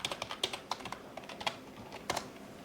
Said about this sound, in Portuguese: deixe-me digitar rapidamente o e-mail